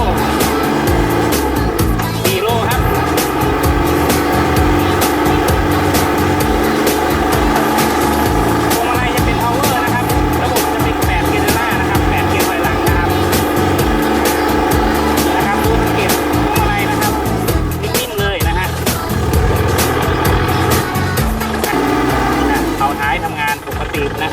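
A used Kubota L3408 DI tractor runs its engine with a loud, steady, close drone and mechanical clatter, while someone talks over it throughout.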